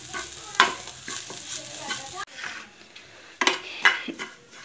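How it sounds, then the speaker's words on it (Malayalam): Grated coconut roasted in a pan on a low flame and stirred with a spoon: close scraping and clinking strokes against the pan over a faint dry sizzle, irregular, with a brief cut midway. "തേങ്ങ ഒരു ലോ ഫ്ലെയിമിലിട്ട് നല്ലതായിട്ട് വറുക്കാം."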